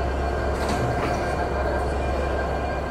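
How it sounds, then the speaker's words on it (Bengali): An EMD 63 series broad gauge diesel-electric locomotive built by Progress Rail rolls in at the head of the Rupsha Express from Khulna, giving a loud, steady rumble with light rail clatter. "প্রবেশ করেছে আমাদের আজকের ট্রেনের লোকোমোটিভ"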